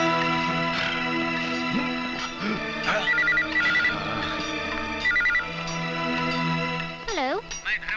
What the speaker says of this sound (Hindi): सर, होम मिनिस्टर धर्मपाल जी का फोन है